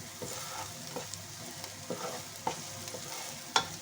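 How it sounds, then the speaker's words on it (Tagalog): Chopped chicken pieces fry with red onion in a pan until golden brown, a steady soft sizzle broken by repeated scrapes and clinks of stirring, with no talking. "Then lutuin mo siya ng golden brown kasama ng red onion"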